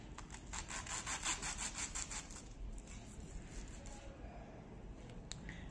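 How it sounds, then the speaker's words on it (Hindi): A knife slices through a crispy fried beetroot vegetable cutlet, giving a close, soft crunching and sawing scrape. The sound is faint and rhythmic for the first few seconds, then fades into quieter rubbing. "ये जो बीटरूट वाला है इसको हम कट करते हैं।"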